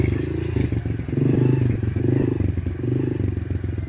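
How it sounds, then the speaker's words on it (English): A 2021 Honda CRF110 110cc kids' dirt bike engine revs in first gear close by, a loud rattling putter that rises and falls in repeated surges with mechanical clatter. "You don't want to leave it in first because you see how it kind of revs up."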